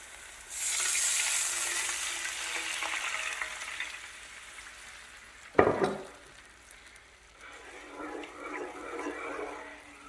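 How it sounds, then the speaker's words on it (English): Homemade sauce poured into a hot pan for glazed chicken thighs, bursting into a loud hissing sizzle that gradually settles, with a sharp clank of a utensil partway through and quieter bubbling afterward. "I'm going to add my sauce that I made earlier into the pan"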